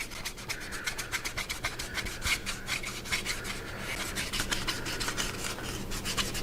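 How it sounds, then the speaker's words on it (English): A cloth rubs briskly back and forth over a surface, wiping clean the area where sticky tape will go, producing a steady, rhythmic scrubbing close up. "we're going to go ahead and clean the area where the sticky tape is"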